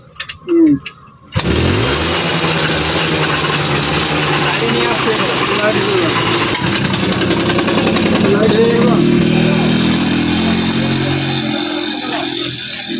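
An old Hero Puch motorcycle engine, just repaired, catches after a brief bit of handling noise and then runs in a loud, steady, close-up rattling idle for the rest of the clip.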